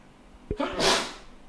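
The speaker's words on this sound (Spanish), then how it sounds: "Temporada de coronavirus, un poquito peligroso el estornudo." A single human sneeze bursts out sharply at close range, a brief explosive rush of breath with no other voices around it.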